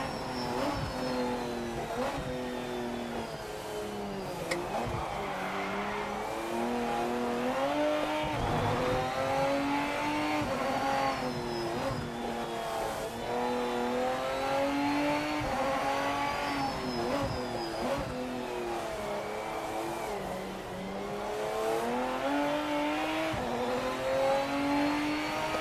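A GT3 race car at Northampton in the Project Motor Racing game, its engine revving loudly and continuously, the pitch climbing and dropping through gear changes, with no voices.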